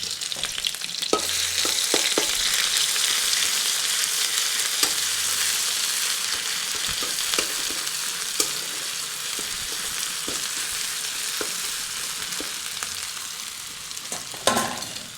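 A paste of garlic, chili and salt fries in hot oil with a loud, steady sizzle, broken by occasional soft taps and scrapes and a clatter near the end.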